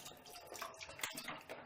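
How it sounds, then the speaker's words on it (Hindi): Water being poured into a kadhai for homemade apple jam, a steady close splashing trickle lasting throughout with no talking over it. "ये देखिए, थोड़ा सा पानी है, ये मैंने ऐड किया है"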